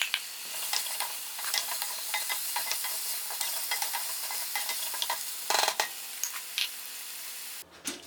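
Onions and other vegetables fry over high heat in a pot for Greek lamb stew, with a loud, steady sizzle close up and occasional stirring scrapes and clinks. No voice is heard.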